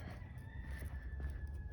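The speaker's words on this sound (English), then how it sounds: "Somebody's got a rooster in their yard." A rooster crows in a nearby yard, a drawn-out call heard at moderate distance over low outdoor background rumble, with no talking.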